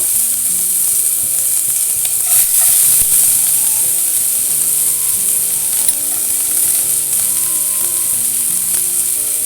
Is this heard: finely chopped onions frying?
yes